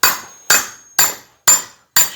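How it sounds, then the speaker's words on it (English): Metal rings as a hammer strikes a pipe laid over wood to shape the bumper contour on a 1968-69 GTO. Five sharp, evenly spaced blows sound close and loud, each leaving a short ringing decay. "start hammering down where you're going to get the contour of the bumper"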